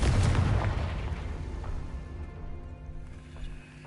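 A Confringo fire spell exploding in Hogwarts Legacy, a loud deep boom at the start that rumbles and fades over a few seconds.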